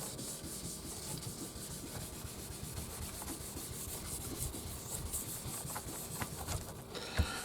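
Buffing and polishing the clear coat on a Strat guitar body by hand with firm pressure in one direction, a faint, continuous rubbing and scrubbing with a soft tap near the end.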